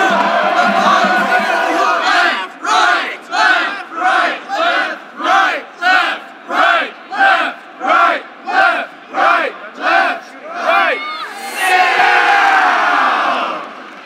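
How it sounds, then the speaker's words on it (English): A crowd of spectators chants Jingle Bells as a themed cheer, loud rhythmic shouted syllables in a regular pulsing pattern, ending in a burst of cheering. "it might not be Christmas time, but we're gonna still sing Jingle Bells"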